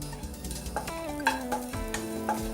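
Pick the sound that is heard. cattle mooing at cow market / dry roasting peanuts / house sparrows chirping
dry roasting peanuts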